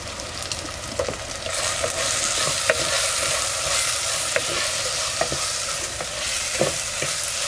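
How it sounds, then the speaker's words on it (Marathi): Onion, tomato and garlic sautéing in a clay pot over a wood-fired stove, with a steady broad sizzle and scattered scraping knocks of a spoon stirring throughout. "टमॅटो आहे ना आपल्याला पूर्ण मऊ होईपर्यंत हे परतून घ्यायचं आहे."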